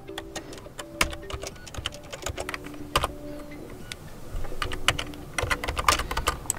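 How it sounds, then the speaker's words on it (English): Keyboard typing with sharp, irregular keystroke clicks and a few faint electronic tones underneath, close and moderately loud, with no talking. "type your password that you have created back there."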